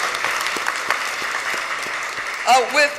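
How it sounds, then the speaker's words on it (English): Steady applause from a crowd at a city council ceremony in Philadelphia fills the clip, with scattered claps standing out, and a voice briefly breaking through near the end. "So we want to give Quaker City a round of applause, please"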